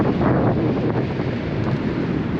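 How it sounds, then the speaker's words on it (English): Strong outdoor wind buffets the microphone in a steady, loud roar of low rumble with no let-up, the kind of gusty conditions that set trees swaying. "I don't know if that's coming through or not in the microphone, but it's pretty windy"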